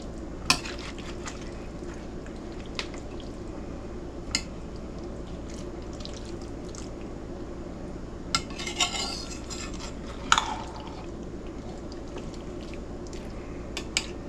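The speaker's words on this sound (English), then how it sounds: "And just get it all nice and stirred up." A utensil stirs a pot of campfire stew with beans, potatoes, ground beef and bacon, giving sparse metallic scrapes and clinks over a steady low outdoor hum, with no voices.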